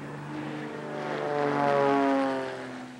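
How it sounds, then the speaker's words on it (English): A propeller-driven tail dragger airplane coming in to land, its engine droning steadily with a rising and falling pitch as it grows louder and then eases off. "When touching down in my tail dragger, I want to make sure that all three wheels touch down at the same time."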